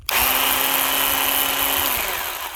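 A Ryobi 10-inch 18V cordless chainsaw revs up and runs at a steady high whine for about two seconds, close and loud, then begins to wind down.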